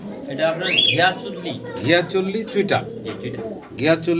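Pigeons in a pair, kept for sale, give repeated soft throaty coos close by, rising and falling in short phrases while someone talks over them.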